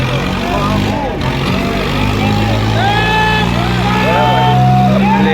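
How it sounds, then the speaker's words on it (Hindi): Tractor engines droning loudly and steadily during a Swaraj versus John Deere tug-of-war contest, with crowd voices and shouts layered over the continuous rumble. "हाँ ट्रैक्टर इसी का ही आ रहा है"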